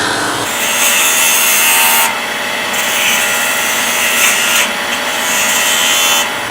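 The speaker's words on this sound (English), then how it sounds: "shallow fluted gouge." A shallow fluted gouge cutting a wooden Christmas ornament on a lathe, a steady loud hiss and rasp of shaving wood that swells and eases in long passes over the spinning blank.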